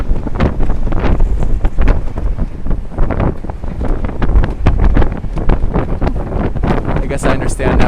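Strong, gusty wind buffets the microphone on an open boat deck, a loud continuous roar with rumbling bursts throughout, and a voice talks underneath.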